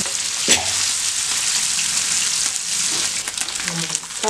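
Vanjaram fish frying in oil in a pan after being flipped, a steady loud crackling sizzle throughout with a few clinks of a utensil.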